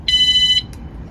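A remote-controlled alarm gives one loud, steady electronic beep lasting about half a second, then cuts off, followed by a faint short blip.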